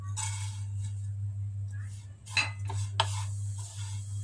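Oats dry-roasted in a pan and stirred with a spoon, giving soft scraping and a few sharp clinks of metal on the pan over a steady low kitchen hum.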